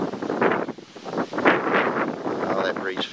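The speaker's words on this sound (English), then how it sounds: "Oh, that breeze feels heavenly." Gusty breeze blowing outdoors buffets the microphone in loud, uneven rushes that swell and fade throughout, with a person's voice faintly underneath.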